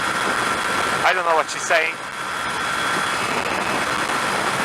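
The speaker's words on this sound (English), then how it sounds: "I can only hear wind noise" Steady, loud wind roar buffets a rider on a 125cc motorbike cruising the M11 motorway at full throttle, with a voice briefly speaking over it.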